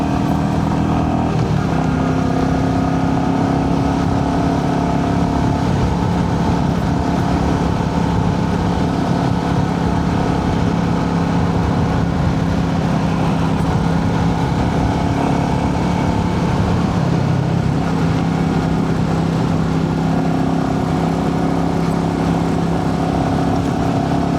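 A Royal Enfield Meteor 350 motorcycle riding steadily on a road, its engine droning loud and close throughout with heavy wind rush and no clear rise in revs.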